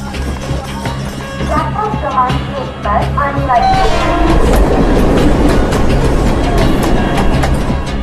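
A passenger train running nearby, with rhythmic wheel clatter and rumble growing louder and denser, and a brief horn-like tone, while voices talk over it.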